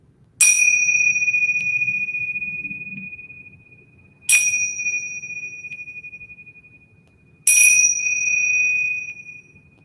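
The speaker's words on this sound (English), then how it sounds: "striking the tingsha bells 3 times so you can rise gently" Tingsha bells struck three times, each a bright, clear ring that sustains and slowly fades before the next strike, evenly spaced in a quiet room.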